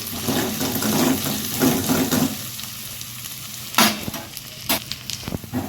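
Fresh ginger and garlic fry in a pan for a tempering, giving a bright crackling sizzle broken by stirring scrapes and a couple of sharp spatter bursts, close and with no talk.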